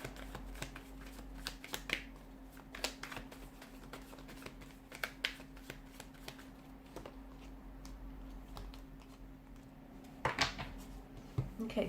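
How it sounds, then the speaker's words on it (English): Tarot cards shuffled and pulled from the deck during a reading, a quiet run of soft riffling clicks and light card snaps spread over the clip against a steady low hum, with no talking. "I just want to pull a few more cards to crown the reading."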